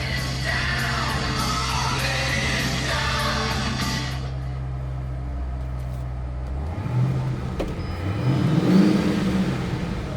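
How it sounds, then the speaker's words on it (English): A supercharged 2005 Ford Mustang Saleen S281 with a steady engine drone and whine under the exhaust, fading partway through, followed by a rising rev near the end; no talk. "Listen to that supercharger whine."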